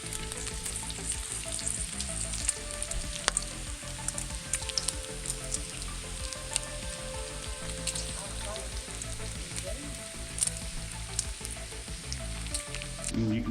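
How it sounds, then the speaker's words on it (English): Bacon sizzles steadily in a pan, a dense, even crackle running the whole time with small pops scattered through it and no one speaking. "we got the bacon on the pan"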